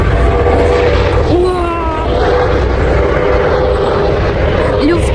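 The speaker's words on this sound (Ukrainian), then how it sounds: "люфтамбуланси, жовтий вертольот, люфтамбуланси, полетіли" A yellow air ambulance helicopter flying over, its loud, steady rotor and engine roar filling the whole stretch with people talking over it.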